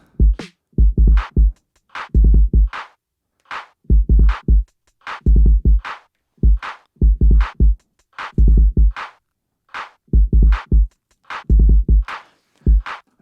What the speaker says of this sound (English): Those drums on their own sound like this.